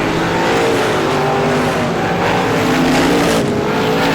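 Race cars at the Star Classic, the number 84 car pulling away, roar around the racetrack in a steady, loud engine drone that holds without a break.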